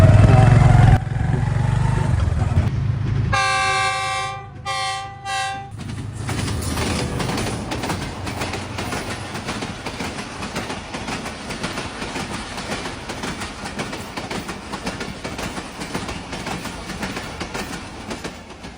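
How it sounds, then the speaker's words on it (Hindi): A train rolls through a jungle: a loud horn sounds in several blasts, then a steady rumbling clatter of wheels on track carries on close and strong throughout. "जंगल दे विचों गुजरती हो ट्रेन"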